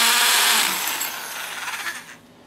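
A 2-inch Milwaukee hole saw grinds through metal plate with a harsh, broadband whir, its teeth worn away, slowly fading and winding down near the end.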